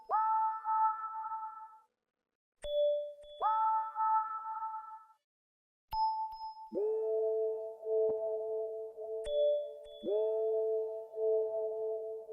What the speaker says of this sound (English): And then added this other bell.